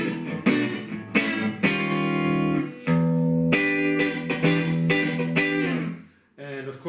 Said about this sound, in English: with a little reverb and a little chorus, it gives you that nice room sound again